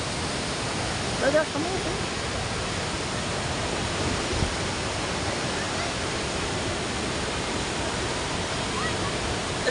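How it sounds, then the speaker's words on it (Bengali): A strong river current rushes in Arunachal Pradesh, making a steady, broadband roar of churning water that fills the whole clip, with a brief voice speaking over it near the start. "প্রচুর স্রোত এখানে।"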